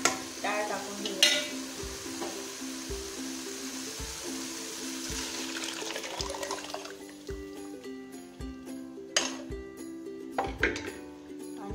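Pumpkin and lentils being stirred into frying masala for mutton dalcha, giving a steady close sizzle with repeated wet scraping stirs throughout.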